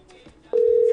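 A telephone ringing tone cuts in abruptly after faint background talk and holds as a loud, steady, pure tone during a live radio call-in broadcast.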